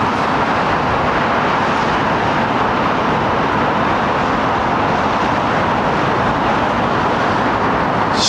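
Embraer jet climbing out overhead after departure from Heathrow runway 09R: a loud, steady broadband jet roar filling the whole clip, with no speech.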